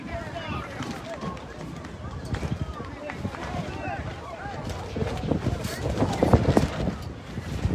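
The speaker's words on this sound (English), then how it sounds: "The wind really picking up here." Strong wind blows across an outdoor youth football field, a steady rushing roar with gusts building louder toward the end, mixed with broad crowd and field noise.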